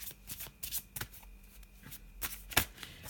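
Bohemian Gothic Tarot cards are shuffled by hand in quiet, soft riffling bursts with sharper snaps between them, close and fairly faint.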